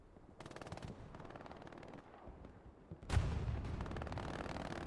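Bursts of machine gun fire from an MG in the Hell Let Loose video game, rapid rattling volleys that grow louder and denser partway through, with other gunfire and battle noise around them.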